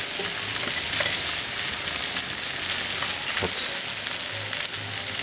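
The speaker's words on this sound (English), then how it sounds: "Okay, the butter is now melted. I'm going to add the potato leek mixture." Potato and leek mixture frying in melted butter in a pan, a dense, continuous sizzle with crackles and occasional stirring scrapes, close up, with a brief spoken word.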